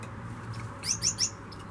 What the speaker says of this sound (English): I love these little finches, they're so beautiful.